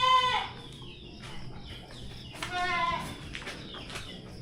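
Goats kept in a cement-floored pen during rainy weather bleat in a few short, wavering calls, one near the start and a louder one midway, over a steady farmyard background.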